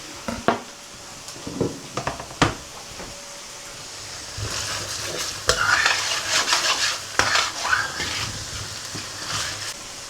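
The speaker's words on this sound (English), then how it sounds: "Now it's in with the garlic, and I'll cook that for just a couple more minutes." Garlic cooking in a paella pan for Spanish paella, with stirring scrapes and utensil clinks against the pan over a soft sizzle, louder bursts of scraping in the second half.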